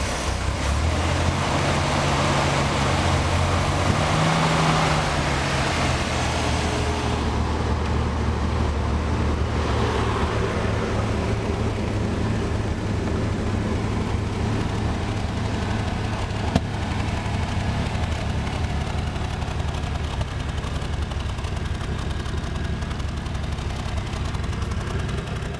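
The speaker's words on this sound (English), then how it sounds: "Give it a little gas" A soft-top car's engine rumbles loudly close by, rising briefly when given gas, then settling back into a steady idle drone.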